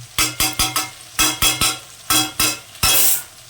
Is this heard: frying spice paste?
yes